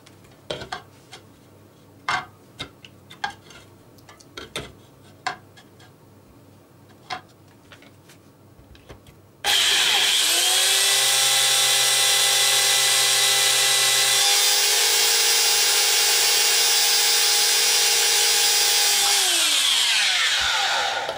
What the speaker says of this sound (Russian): Последнее отверстие просверлилось намного быстрее, но тоже хорошо и качественно.